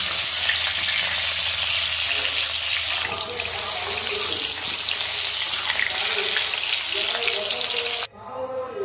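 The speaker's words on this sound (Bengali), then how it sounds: "আলুগুলো ভাজা হয়ে এসেছে, এখানে তুলে নেব" New potatoes frying in hot oil in a kadai for a mutton curry, a loud steady sizzle with scraping stirs that cuts off abruptly near the end, leaving quieter clatter.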